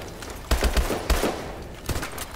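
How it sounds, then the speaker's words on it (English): Rapid bursts of gunfire in the futuristic shooter game Call of Duty: Advanced Warfare, loud clustered volleys with a lone shot near the end, no talk. "I'm literally just gonna go and start shooting."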